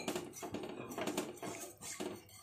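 A spoon scrapes and clinks around a pan while white sauce for cheesy pasta is stirred, with steady, continuous close-up scraping and small knocks throughout and no talking.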